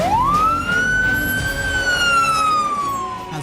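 A fire engine siren wails in one long rising and falling sweep, loud and steady, with a faint vehicle rumble underneath and no voices.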